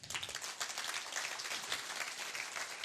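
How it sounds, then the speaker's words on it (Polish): Applause for Polish teachers from an audience at a talk on school priorities: continuous dense clapping from a room full of people, fairly close and steady throughout. "Brawa dla Was."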